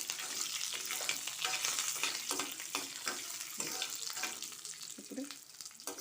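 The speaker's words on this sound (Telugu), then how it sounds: "కరివేపాకు వేస్తాను. అవి వేడికి వేగిపోతాయి" Lentils and curry leaves dry-roast in a hot pan, giving a continuous crackly sizzle broken by scraping stirs. The sound is fairly close and steady, with no talk.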